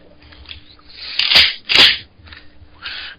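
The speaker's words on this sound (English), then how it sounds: "That is the sound of me racking a shotgun." Mossberg 500 pump-action shotgun racked close by: two sharp metallic clacks, back then forward about half a second apart, over faint room hiss.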